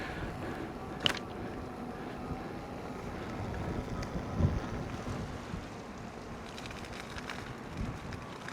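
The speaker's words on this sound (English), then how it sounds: "now the wind is picking up" Steady wind rushes and buffets the microphone on a cold, icy ride near water, with a low continuous roar and a few faint knocks.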